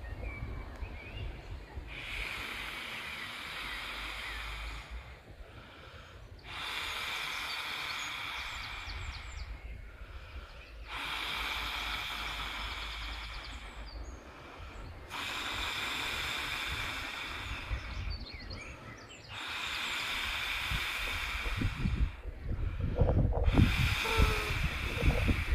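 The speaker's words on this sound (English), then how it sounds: "we'll go with the good old tried and tested method of blowing it up by mouth, just to see how long and how many breaths it takes" Someone blows up a Klymit insulated sleeping mat by mouth: a series of long, forceful, breathy puffs into the valve, each lasting a few seconds, with short quiet pauses between them, heard close to the mic.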